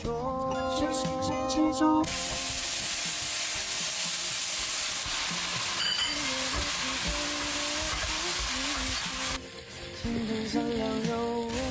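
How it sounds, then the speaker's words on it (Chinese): Eggs stir-fried in a wok with waipo cai (Chinese preserved greens) and chili, a steady loud sizzle with scraping stirs, over a light background tune. "最后来个外婆菜炒蛋， 加辣椒"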